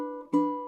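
A ukulele double stop pairing D with A, plucked once and left to ring clearly, close up with no talk.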